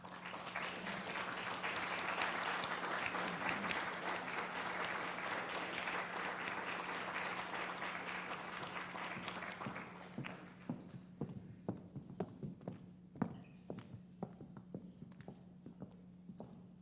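Sustained crowd applause fills a hall at an athletic hall of fame induction ceremony, dense and steady at first, then thinning out into scattered individual claps toward the end over a low steady hum.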